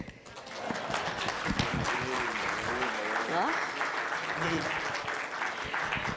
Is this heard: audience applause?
yes